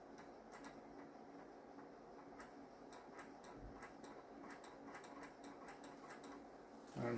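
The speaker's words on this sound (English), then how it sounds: "the disk is grinding away as disks tend to do" Quiet, irregular ticking and clicking from a floppy disk drive as it boots a disk freshly written with a Greaseweazle, soft repeated seeks over a low steady hum, with a louder thump right at the end.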